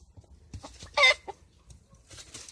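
A rooster clucks close by in a poultry yard: one loud, strained cluck in the middle among softer scattered clucks and rustles, with the bird reportedly having a small health problem.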